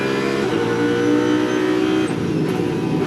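On-board engine of an Audi GT race car in the 2017 ADAC GT Masters race at Oschersleben: a loud, steady, high-revving drone fills the cockpit, with the pitch dropping near the end as the car slows.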